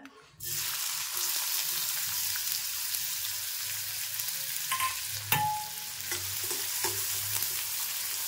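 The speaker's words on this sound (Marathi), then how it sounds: "आता मी कांदा टाकते फोडणीला." Chopped onion hits hot oil in a wok for tempering, setting off a sudden loud sizzle that settles into steady frying, with a few clinks of a utensil stirring partway through.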